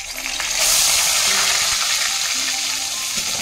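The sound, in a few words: onion paste frying in hot oil with cardamom and cinnamon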